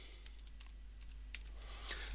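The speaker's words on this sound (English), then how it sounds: "I then type in the proxy name." Quiet typing on a computer keyboard while entering a proxy name, a short run of scattered, light key clicks over low background hum.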